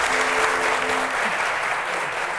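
Studio audience applause in a Turkish political TV talk show, dense and steady clapping at an even level throughout, with a brief voice faintly underneath.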